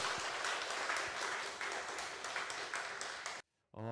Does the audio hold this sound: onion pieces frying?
no